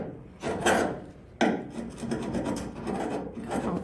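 A flipper scraper rasps across a surface on a Toyota SW20 MR2 project, giving two separate scraping strokes followed by a longer run of rough rubbing, close and moderately loud.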